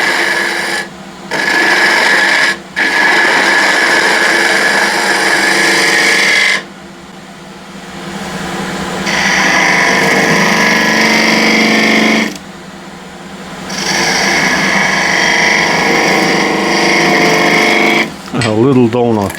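A spindle gouge cuts ash wood on a lathe to shape a cross-grain box, giving a steady, loud scraping hiss that comes in long passes, breaking off for short pauses between cuts.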